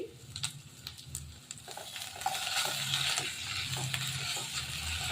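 Red chili powder being stirred into diced capsicum in a hot pan over low to medium flame, with repeated scraping strokes over a steady sizzle and frying hiss, close and fairly loud, no talking.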